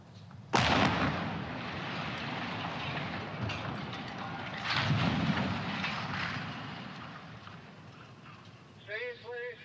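Demolition blast bringing down a 1,000-ton sand bin at a former industrial plant, a sudden loud bang followed by a long rumbling roar of collapse that surges again midway and fades, with faint voices near the end.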